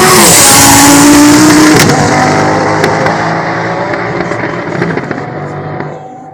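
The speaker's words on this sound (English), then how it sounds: "This is an 1100 plus horsepower car, all-wheel drive. It's a stage 3 Hefner twin turbo kit." An 1100-plus horsepower all-wheel-drive twin-turbo drag car with a stage 3 Hefner kit blasts off at a festival of speed, a loud roaring launch with a brief rising whine that fades steadily as it pulls away.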